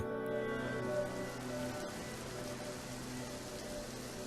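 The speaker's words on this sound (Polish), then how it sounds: "przybierając postać deszczu, śniegu czy gradu, opadają z powrotem na ląd" Soft, steady rain falls continuously, a faint even patter with no other sounds standing out.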